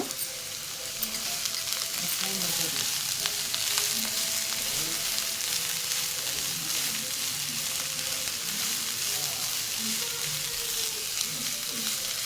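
Onion flowers with salt sautéing in a pan, a steady close sizzle with occasional stirring scrapes and no talk.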